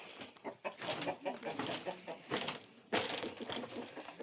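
Chickens cluck and call repeatedly at close range, with overlapping busy vocalizations throughout, at a rural house where wooden rooms are being built.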